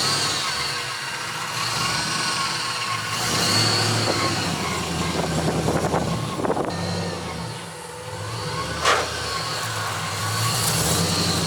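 An abandoned Mazda FC RX7 rotary engine running, a steady mid-pitched drone with brief revs and fluctuations, close by and without talk.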